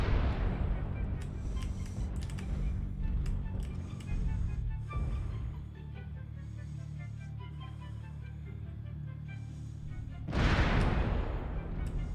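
Artillery strike in the mech combat game MechWarrior Online in a jungle map, a series of loud booming blasts and rumbling impacts early on, a quieter stretch, then another heavy explosion near the end.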